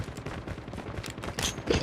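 Rapid bursts of automatic gunfire in a Call of Duty match on the Alcatraz map, a quick rattling string of shots ending in a louder blast, close and dominant.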